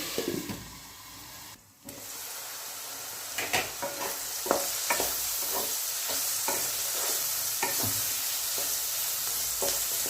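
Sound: vegetables frying for pasta

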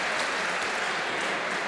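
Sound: applause for the blue team in a match

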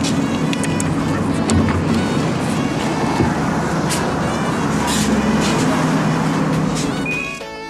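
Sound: subway train ride

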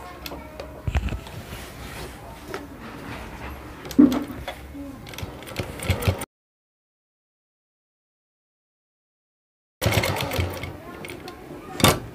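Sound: sewing machine stitching a salwar belt

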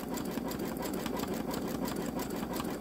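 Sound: Babylock Solaris Vision embroidery machine sewing a wide satin stitch

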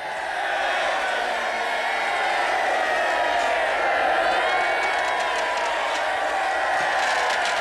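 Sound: crowd cheering

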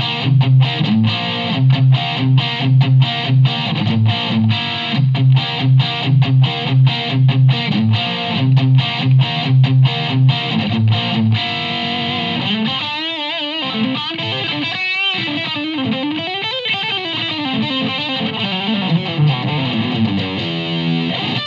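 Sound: electric guitar patch through Helix modeler and Mission Gemini 2

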